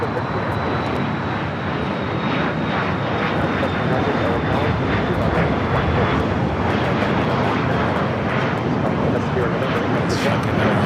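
An Alaska Airlines plane takes off from runway 25 right at LAX, a loud, steady engine roar filling the air without letup, with radio voices underneath.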